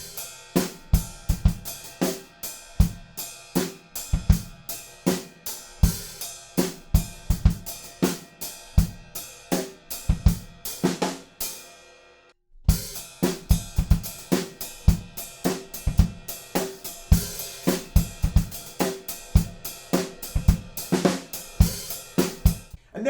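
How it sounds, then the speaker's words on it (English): Acoustic drum kit playing a funky groove, with offbeat ride cymbal, crisp snare backbeats and kick drum in a steady, loud pattern, briefly stopping midway before resuming. "we'll be playing the offbeat pattern with the right hand, and then moving the right hand over to the snare drum"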